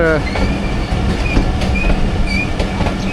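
The Jaffar Express rolls along the rails between Attock and Rawalpindi, a loud continuous rumble with rhythmic wheel clicks and brief metallic squeals, heard close from inside the coaches with a voice faintly underneath.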